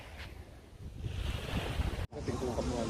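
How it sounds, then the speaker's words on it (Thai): Ocean waves wash onto a beach at sunset on Koh Samui, a steady surf rush with wind buffeting the microphone and one brief dropout. "เราเลยมาฟังเสียงคลื่นกันนะครับ"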